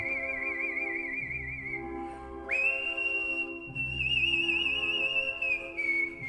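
Steady, clear whistling of long sustained notes with gentle vibrato, one pitch jump midway, over a soft musical backing.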